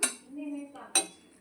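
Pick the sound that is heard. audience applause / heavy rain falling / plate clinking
plate clinking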